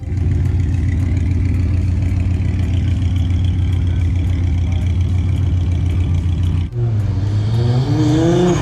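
A Nissan Skyline GT-R R34 M-Spec Nür engine holds a loud, steady revving drone at a car meet, then briefly drops off and climbs again in a rising rev, heard up close with no talking.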